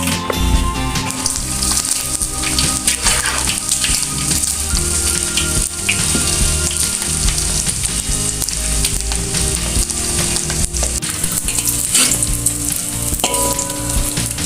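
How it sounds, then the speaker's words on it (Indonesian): Sepat fish frying in hot oil until crispy, a dense continuous sizzle and crackle of bubbling oil close up, loud and steady throughout with no talk. "Lanjut kita goreng ikan sepatnya sampai kering juga ya Bunda."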